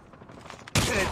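Gunfire in the mobile shooter game Call of Duty Mobile, a sudden dense burst of rapid shots starting partway through and continuing loud to the end after a quieter start.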